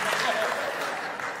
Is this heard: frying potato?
no